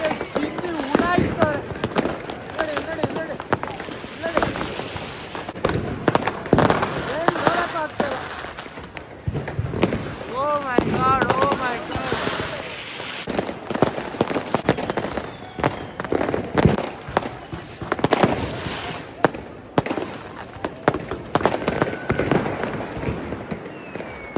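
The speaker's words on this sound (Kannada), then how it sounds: "ನೋಡಿ ಯಾವ ಮಟ್ಟ ಹಚ್ತವ್ರೆ ಅಂದ್ರೆ ಪಟಾಕಿ" New Year firecrackers and fireworks in Berlin pop and crackle in dense, irregular bursts for the whole stretch, some near and loud, others distant, while people talk and shout throughout.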